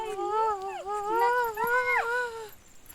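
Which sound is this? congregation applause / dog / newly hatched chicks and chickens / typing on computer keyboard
dog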